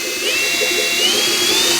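A power drill spins a 1965 Ford Mustang engine to prime the oil, giving a loud steady close whine with a slight rise in pitch over an even rumble.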